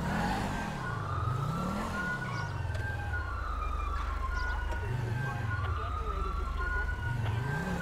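A police car siren from GTA V wails in a steady rising and falling sweep over a loud, continuous engine rumble, staying close and prominent for the whole stretch.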